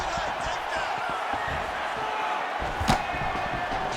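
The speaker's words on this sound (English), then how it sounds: "Crowd is like just reacting every time he moves" Crowd noise from the EA Sports UFC 5 video game surges in a dense, continuous roar during a Jorge Masvidal fight, with a sharp impact-like burst near the end; no clear talk over it.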